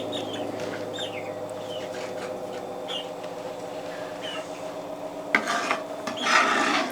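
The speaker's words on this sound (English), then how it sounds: "Scrape up those seeds." A knife scrapes jalapeno seeds, a close, repeated rasping and rubbing against the pepper, with a few sharper scrapes and knocks toward the end; no talking.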